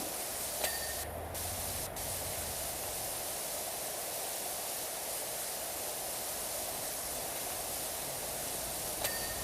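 Pressure washer nozzle spraying in PowerWash Simulator 2, a steady hissing spray of broadband noise that runs unbroken and fairly faint for the whole stretch, with a couple of small clicks.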